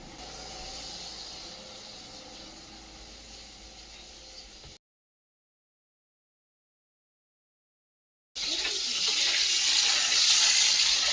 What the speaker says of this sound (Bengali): এই যে কাঁকরোল ভাজা হচ্ছে একটু